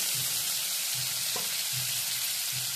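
Spice masala frying gently in oil over a low gas flame for umber (modak) bhaji, a steady soft sizzle with faint periodic scraping of stirring, close and alone with no voices.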